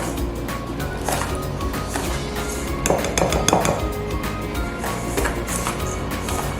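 Eggs being mixed in a bowl for puto cheese, with steady, fairly loud clinking and scraping of a utensil against the dish in a continuous rhythm, close up and with no talking.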